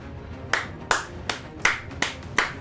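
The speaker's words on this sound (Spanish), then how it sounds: "¡Se merece un aplauso!" Six crisp, separate hand claps at an even, unhurried pace, close and isolated against a quiet background.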